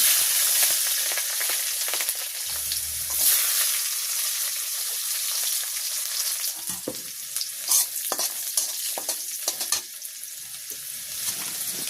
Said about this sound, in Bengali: আর একটু তেল দিয়ে দিচ্ছি। দিয়ে দেবো কয়েকটা গোটা রাঁধুনি, দিয়ে দেবো রসুন